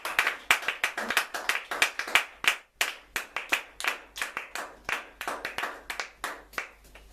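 A church congregation claps in a brisk, uneven rhythm of sharp hand slaps, with a short pause before it picks up again and continues steadily.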